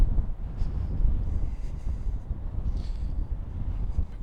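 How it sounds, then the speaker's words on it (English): Wind buffeting across a town street in West Bromwich, a steady rough rumble pressing on the microphone throughout with gusty swells and no voices. "Blowy today."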